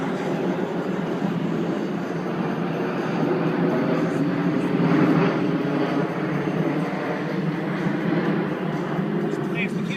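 Airplanes fly over a waterside spot at sunset, a steady broad engine roar rising slightly toward the middle and holding throughout, with quiet voices underneath.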